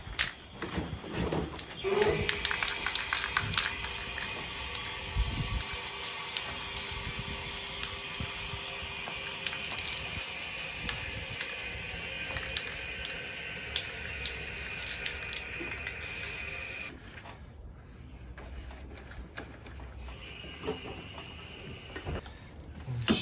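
Lanotech lubricant sprayed from an aerosol onto lawn mower parts during a repair, a long continuous hissing spray lasting many seconds before stopping, followed by quieter handling noises.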